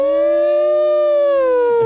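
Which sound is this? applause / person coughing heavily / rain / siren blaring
siren blaring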